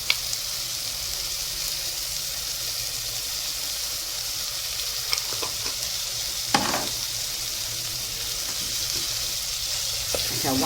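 Black pepper and onion sizzling and frying in a pan, a continuous hiss with occasional stirring scrapes and clinks, close and steady, no talk.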